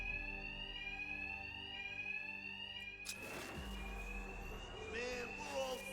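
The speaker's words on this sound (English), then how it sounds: "Two-Face's thugs won't hear me over the alarm" An alarm in the video game Batman Arkham Knight rings continuously with a steady, shrill electronic tone, loud and unbroken, while a burst of impact noise and other game sounds cut in partway through.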